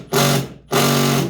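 Milwaukee power driver with a Torx bit backing out Jeep screws, two short close bursts of motor whir separated by a brief pause.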